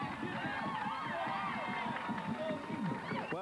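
Spectators at a 1999 Macomb Dakota vs. Chippewa Valley high school football playoff game make a steady, dense crowd murmur with scattered shouts. It is moderately distant and mixed with voices nearby.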